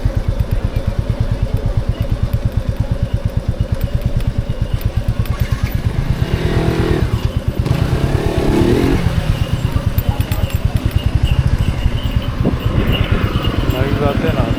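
A motorcycle on a ride toward Ganpatipule temple on the Konkan coast thrums with a loud, rapid engine pulse close by, steady throughout, while people talk over it.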